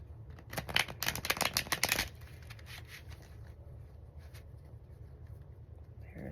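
A deck of tarot cards is shuffled in a quick run of crisp, flapping riffles lasting under two seconds, followed by near silence with faint room noise.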